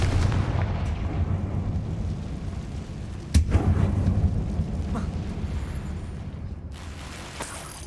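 The Confringo fire spell goes off in Hogwarts Legacy inside an abandoned mine. It lands as a sharp blast with a crackling, rumbling tail over a steady low game ambience, and a few fainter thuds and clicks follow.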